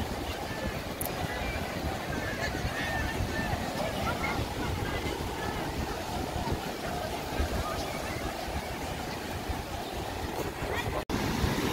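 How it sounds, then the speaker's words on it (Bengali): Constant roar of ocean waves at Puri beach and gusting wind buffeting the microphone, loud and unbroken, with a voice faintly buried in the noise. "এত সমুদ্রের আওয়াজ, মনে হয় না গলার আওয়াজ শোনা যাচ্ছে, তার মধ্যে হাওয়া।"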